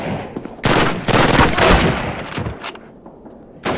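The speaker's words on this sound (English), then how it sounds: "Get out of the machine gun, dummy!" Machine-gun fire in Call of Duty 1 comes as dense, loud bursts of rapid shots. The bursts run almost continuously and then thin out toward the end.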